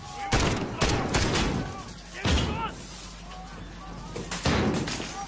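Several loud gunfire bursts from an FAL rifle in Call of Duty: Modern Warfare (2019), sharp heavy cracks spaced a second or two apart over a low game rumble, with a voice speaking in between.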